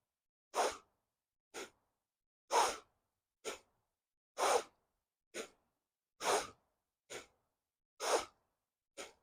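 Forceful pranayama breathing, with ten sharp, even bursts of air through the nose spaced about a second apart, close and fairly loud with silence between them.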